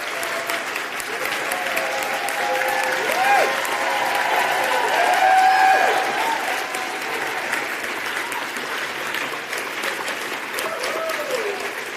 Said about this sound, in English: ask you to please stand up and get a round of applause